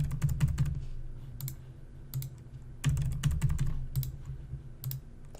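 Password typed on a computer keyboard: close, quick bursts of key clicks in uneven clusters with short pauses between them.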